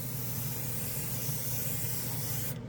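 Trigger airbrush driven by a dual port compressor sprays paint lines in a steady, loud, continuous hiss that runs the full length before cutting off abruptly at the end.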